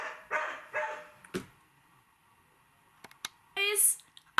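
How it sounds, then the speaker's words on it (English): Dogs barking indoors, a few separate sharp barks and yips in short bursts with quiet gaps between them, a louder cluster near the end. "Please ignore the dogs barking."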